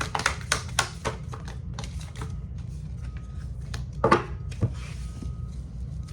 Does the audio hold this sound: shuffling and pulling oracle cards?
yes